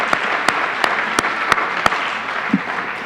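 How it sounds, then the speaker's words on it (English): An audience claps for music school students at an annual day event, with sustained applause punctuated by a few louder regular claps, fairly close. "Give them a big round of applause."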